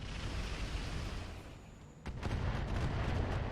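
Weapons fire at a light tank in the RogueTech mech combat game, a steady rumbling barrage of booms that swells after a brief lull, with no voices.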